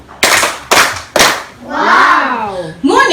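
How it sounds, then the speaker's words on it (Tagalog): A class gives itself three sharp, evenly spaced claps in unison, loud and close, followed by a drawn-out vocal cheer and the start of another. "bibigyan ninyo ang inyong sarili ng 3 palakpak"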